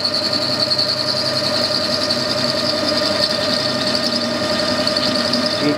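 Metal lathe boring welded aluminium with a small high-speed steel boring bar, a loud steady whine of the machine with a sustained high-pitched cutting tone throughout, no voices.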